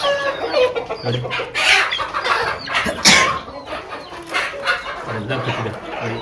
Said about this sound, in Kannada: ಇದು ಒಂದೇ ಪ್ಲೇಸಲ್ಲಿ 2 ಕೋಳಿಗಳು ಕೂತಿದೆ